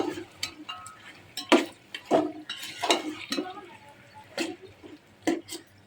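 Bay leaf, cinnamon and cardamom fry in oil for chicken biryani, with a soft crackle under repeated utensil scrapes and knocks against the pot as the spices are stirred; someone speaks intermittently.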